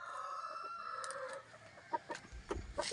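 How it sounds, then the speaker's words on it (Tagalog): Chickens and roosters at a rural Filipino poultry farm, with several short clucks and calls rising over steady outdoor background noise, fairly close. "Another poultry."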